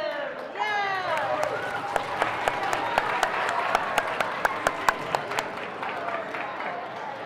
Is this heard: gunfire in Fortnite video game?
no